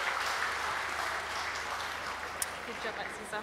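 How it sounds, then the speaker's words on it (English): An audience at an Assyrian New Year festival applauds a performer, giving a faint, steady spread of clapping across the whole stretch, with a sharp isolated clap standing out briefly. "Another round of applause, please, ladies and gentlemen."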